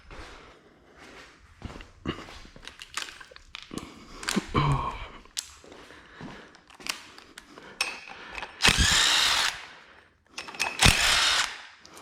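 A power tool zaps 13 mm bolts off the AC pulley on a BMW M50 engine: scattered clicks and handling knocks, then two loud sustained buzzing bursts close by.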